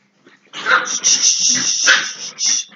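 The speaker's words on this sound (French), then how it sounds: "C'est mes petits chiens qui aboient" Small dogs bark in a rapid, high-pitched flurry of yips close by, several overlapping barks filling a couple of seconds indoors.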